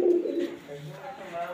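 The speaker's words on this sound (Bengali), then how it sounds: "এই যে ছুরি-পাকের কবুতর," A pigeon coos softly in a loft, a low, brief throaty coo close by with a faint voice in the background.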